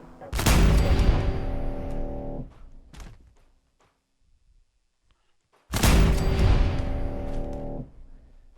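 Laser turrets fire in Fallout 4, two separate bursts of sharp, crackling blasts, each ringing out for about two seconds, with a near-silent pause between them.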